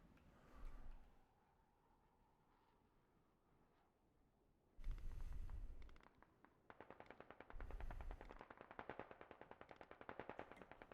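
Bursts of automatic gunfire from the tactical shooter game Squad, with two loud, heavy volleys and then rapid clattering rounds that ring on steadily and sound fairly close.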